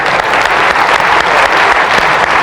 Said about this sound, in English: Big cheer. Let's give her a round of applause.